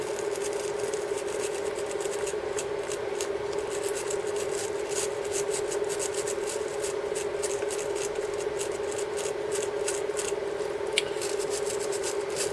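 Quick, steady scrubbing with a brush dipped in vinegar over a corroded Amiga RAM board, a dense dry scratching that continues without a break, close and fairly soft.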